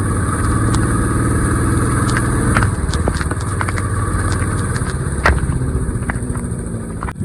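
A Yamaha R15 and a Royal Enfield Bullet ride in monsoon rain on a mountain road, a steady close engine drone with a thumping, low exhaust beat and occasional gear-shift bumps.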